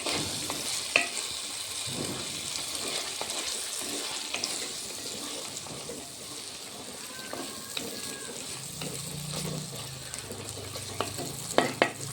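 Masala cooks in oil for an egg and tomato curry, making a continuous low sizzle with stirring scrapes and some running-water sounds in the background.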